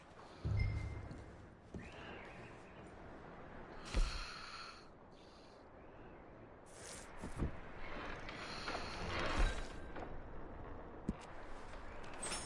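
Horses in the Red Dead Redemption 2 video game, with several snorts and breathy puffs plus occasional hoof or tack clatter, close and intermittent over a quiet outdoor ambience with no talk.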